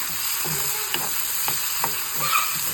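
Tempering for Andhra-style tomato dal sizzles steadily in a pan, with a few soft stirring clinks and scrapes over the constant frying hiss.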